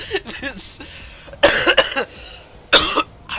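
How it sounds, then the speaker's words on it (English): A person coughs in several sharp, loud bursts after laughing hard, with short throaty gaps and rough breaths between the fits, close and alone. "I can't remember the last time I laughed so hard I started coughing."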